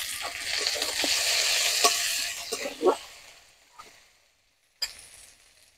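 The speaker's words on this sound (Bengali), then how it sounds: "টমেটো কুচি দিয়ে দেব।" Chopped tomatoes hit hot oil in a pan for a Bengali-style eggplant curry, giving a broad sizzle with scattered stirring clinks for about three seconds before fading to near silence, then a brief clatter and fresh sizzle.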